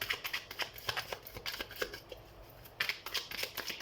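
Tarot cards are shuffled during a reading, quick irregular papery riffles and flicks, close and quiet, with no voice over them.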